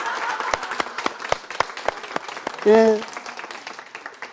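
Audience at a laughter-therapy lecture breaks into scattered applause, a lively patter of clapping that swells briefly, with a voice speaking over it.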